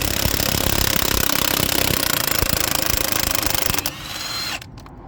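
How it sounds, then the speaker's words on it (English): An impact wrench hammers loose the wheel nuts on a MAN 7.5 ton horsebox, a loud, close, rapid rattling burst that runs for nearly four seconds, then drops to a lower whir and stops. "just get the wheel nuts off there"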